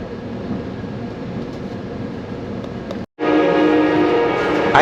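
An Amtrak Pacific Surfliner train rolls toward Santa Fe Depot in San Diego, heard from on board as a steady rumbling, rattling ride that cuts out briefly and then returns slightly louder and brighter.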